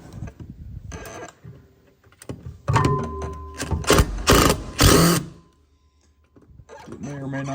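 Phillips head screws come out of a 1995 SeaDoo Speedster in loud, close bursts of mechanical whirring and clunks, separated by pauses, with a voice heard in places.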